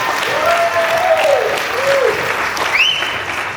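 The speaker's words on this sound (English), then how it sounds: "Please give her an applause." Wedding guests in a marquee give a sustained burst of applause, a dense, loud wash of clapping that continues through the whole moment, with a few cheers and whoops rising above it near the end.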